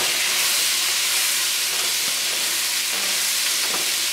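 Vegetables salted with kosher salt sweat in a pot over medium heat, giving a steady, loud sizzling hiss throughout with a few faint clicks.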